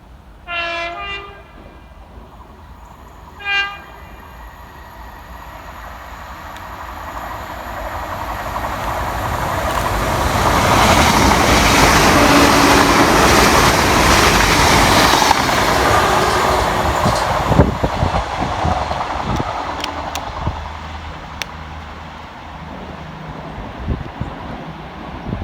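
A TransPennine Express class 802 train from Newcastle to Liverpool races through Church Fenton station, two horn blasts sounding before a swelling roar of wheels and engines that peaks and slowly fades, with rail clicks as it clears.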